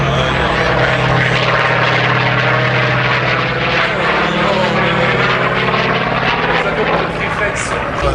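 A Hawker Sea Fury propeller aircraft flies close by at an air show, its engine a loud, steady droning roar that holds throughout.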